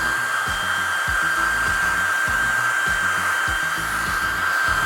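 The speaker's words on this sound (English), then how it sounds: "let's get our blow dryer and we're gonna blow dry it so we can move on to the next step" A hair dryer runs steadily and loudly, drying paint on a brush for a dream catcher art project; a continuous whine carries over its roar, with faint intermittent thumps underneath.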